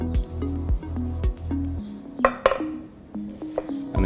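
A kitchen knife cutting lines half a centimetre apart down the top of an onion, a few distinct sharp chops and clinks against the board, close and clear with short gaps between strokes.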